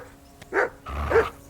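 Dog barking in the Kingdom Come Deliverance II video game: two short, loud barks about half a second apart, with no talk over them.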